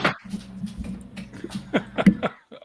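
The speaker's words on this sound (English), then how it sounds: "All these dogs are just going nuts over there." Several dogs barking and whining close by in a short, excited burst of yips and whimpers, with a faint voice in the background.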